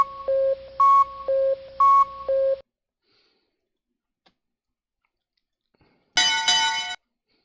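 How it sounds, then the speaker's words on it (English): A bell sound effect from a chat bot on a Star Trek Online stream: a few short electronic beeps, a pause of near silence, then one bright, loud ringing bell chime that lasts under a second. "The bell."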